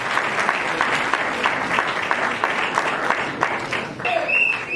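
A crowd cheers and applauds at a gathering, with dense, continuous clapping and voices filling the whole stretch, and a brief whistle-like tone near the end.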